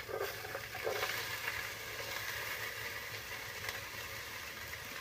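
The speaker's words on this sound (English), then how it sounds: "we're going to go ahead and throw the onions in there" Onions sizzling as they sauté in hot oil in a pan, a steady broadband frying hiss throughout with a low hum underneath, no voices.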